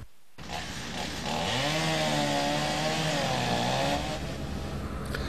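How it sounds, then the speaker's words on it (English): A chainsaw engine revs and whines steadily, rising and falling in pitch as it bites into storm-downed trees, fairly close and loud, with no voices. "the sound of chainsaws could be heard all along Main Street this morning"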